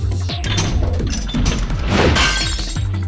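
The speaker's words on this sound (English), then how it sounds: "I heard glass breaking. Oh, the shield. The glass is broken." Glass shatters in Virtue's Last Reward, a loud crash followed by a spray of tinkling shards and scattered impacts, backed by game music.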